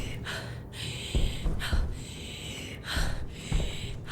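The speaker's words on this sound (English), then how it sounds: "Heavy breathing" A player character in the Stationeers video game breathes heavily. Loud, close inhales and exhales repeat in a steady rhythm of roughly one breath a second, with no talking.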